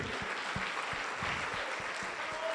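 A church congregation applauds in a continuous, moderately distant wash of clapping, with soft low thumps underneath and a brief held tone near the end.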